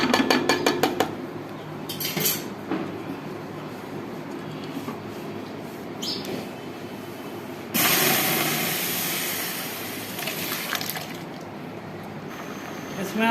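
Tomato mash for a seekh kabab gravy is scraped and tipped into a metal kadhai, giving clattering utensil knocks and a burst of scraping at the start, then a louder, denser stretch of scraping and clinking near the end.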